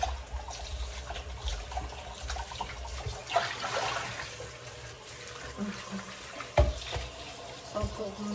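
Water runs from a tap into a sink in bursts, splashing and trickling at close range, with some handling clatter and soft background voices at times.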